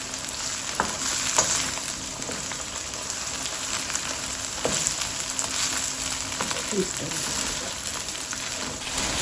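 Bitter gourd pieces fry in hot oil while a ladle stirs and breaks them apart, a continuous loud sizzle with intermittent scraping taps.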